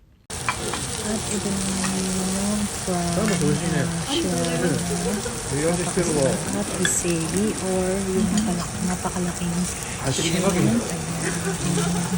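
A chef cooks beef on a hot grill, with a loud, steady sizzle and frying hiss throughout and a voice talking over it.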